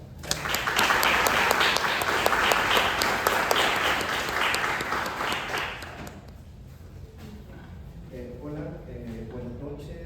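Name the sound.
applause welcoming the author at a book presentation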